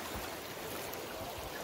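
The Río Dos Caños in Hueyapan de Ocampo, Mexico, flows past in a quiet, continuous rush and gurgle over rocks, faint and steady with no talking.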